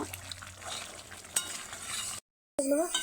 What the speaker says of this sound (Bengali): আলুটা দিয়ে আরও কিছুক্ষণ জন্য ভালো করে কষি নিব